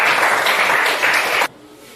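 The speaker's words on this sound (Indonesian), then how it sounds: "Oke, beri tepuk tangan" A classroom group claps for a student team after its presentation, a brisk burst of many hands that carries on and then stops abruptly, followed by near silence.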